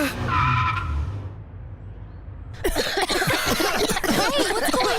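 A new mini car in a cartoon skids to a stop with a long, scraping tire squeal, then a brief near-silence before bursts of lively chatter and laughter.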